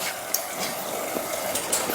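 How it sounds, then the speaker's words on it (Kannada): An automatic water bowl for cattle at a goshala fills with a steady, close rush of flowing water, a continuous gushing hiss with a few small splashes and no talk. "ಇಲ್ಲಿ ಆಟೋಮೆಟಿಕ್ ವಾಟರ್ ಬಾಲ್ ಸಿಸ್ಟಮ್ ಇದೆ"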